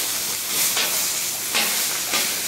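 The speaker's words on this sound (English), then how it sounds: "I'm still sauteing over there" Garlic butter shrimp sautéing on a griddle gives a steady, close sizzling hiss that swells and eases in a few waves, with no talking.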